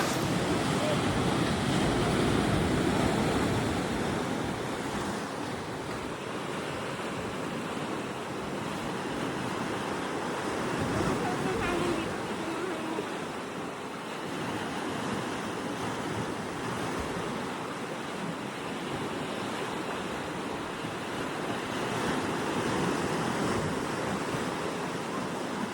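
Wind gusts at the seaside on Tap Mun Island, a broad roaring rush buffeting the microphone over breaking surf, loud and continuous with surges and lulls.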